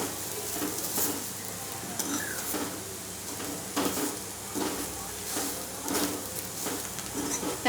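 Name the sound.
masala paste (vatan) frying in a pan for black pea sambar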